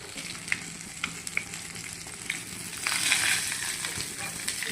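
Dried red chilies fry in hot oil in a home kitchen pan, giving a steady close sizzle with scattered small pops and crackles that swell louder toward the end.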